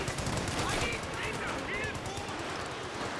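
In the strategy game Company of Heroes 2, a Katyusha rocket artillery barrage fires off a rapid, crackling volley of launches and impacts, dense and loud across the moment amid battlefield noise.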